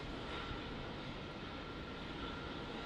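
Air India Boeing 787 Dreamliner on departure for Delhi at Melbourne Airport, a faint, steady distant jet engine roar with no talk.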